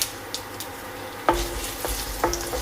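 Green chilies hit hot oil in a pan, already seasoned with fenugreek seeds, letting out a sudden burst of sizzle over a continuous fry hiss, with a few spoon taps and stirs.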